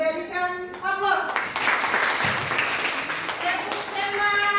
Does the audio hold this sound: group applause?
yes